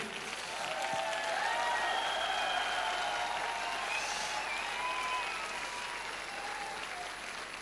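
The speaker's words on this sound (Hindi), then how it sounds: "सभी लोग खड़े होकर ताली बजाते हैं सुराई सर के लिए" An audience at a Safe Shop function stands and applauds for an honored guest, sustained dense clapping from a crowd that holds steady for several seconds in a large hall.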